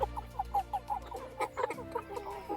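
Meat chickens cluck in a repeated, fairly close chorus of short soft calls, with no talking over them.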